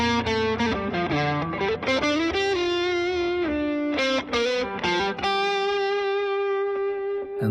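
A PRS McCarty 594 electric guitar plays through heavy distortion, with thick, sustained chords and shifting notes ringing continuously and loud, no voices.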